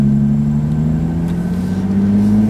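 A 2016 Jaguar F-Type V6 convertible in sport mode with manual shifting pulls on a back road, its engine a steady, loud, droning hum heard from inside the cabin with no talking.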